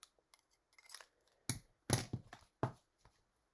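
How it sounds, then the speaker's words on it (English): Scissors trim the edge of a paper greeting card in a quiet room, a handful of crisp, close snips spaced irregularly with no one talking. "I need to trim this a little bit."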